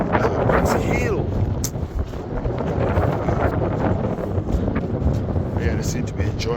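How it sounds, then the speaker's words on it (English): Strong wind gusting across an open farm field, buffeting the microphone with a loud, broadband rush that swells and eases, while a voice speaks briefly. "This wind."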